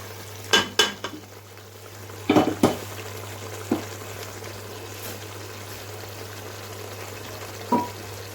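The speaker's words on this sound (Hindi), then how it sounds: "ऐड करके इसे भी डालकर अच्छी तरह से हमने भून लेना है" Mutton with added yogurt frying in a wok, a low steady sizzle running throughout, with several sharp clinks and scrapes of a stirring utensil against the pan scattered across the clip.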